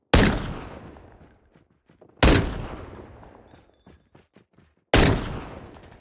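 Sniper gunfire in a video game: three loud, sharp shots about two and a half seconds apart, each trailing off in a long, fading echo, with no talk.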